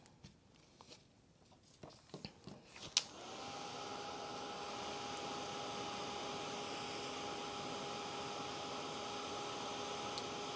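A hair dryer blows over a watercolor-painted card, switching on after a few light handling clicks and then running as a steady, even whoosh with a faint tonal whine.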